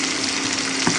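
Slices of potato, flat bean and pumpkin fry in hot oil in a pan, a close, loud, continuous sizzle with a brief stir near the end.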